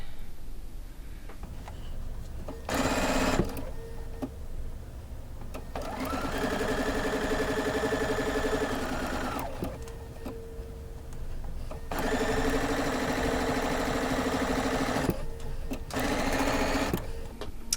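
A sewing machine stitches a quilt block seam in several steady, close bursts of rapid whirring, with short quiet pauses between runs.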